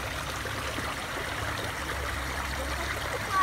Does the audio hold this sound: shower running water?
yes